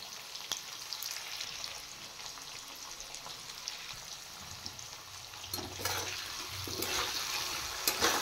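Thin slices of radish and potato with salt and turmeric fry in a pan with a steady close sizzle, then stirring scrapes and rustles build toward the end.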